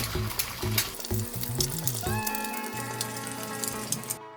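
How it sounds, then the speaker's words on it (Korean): An egg frying in plenty of oil for a chapagetti dish, a continuous close sizzle and crackle, with clunks and a bright metallic ring from the pan over the first half. "기름을 넉넉하게 둘러 계란을 튀기듯이 구워주세요."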